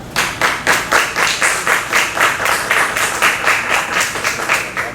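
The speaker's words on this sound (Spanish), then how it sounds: "Les invito a recibir con un fuerte aplauso" An audience claps in a strong, rhythmic, steady applause to welcome a speaker at a talk, filling the room for about five seconds with no voices over it.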